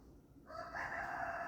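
A backyard rooster crows, a single drawn-out call that rises and holds, heard faintly at a distance over steady low background noise.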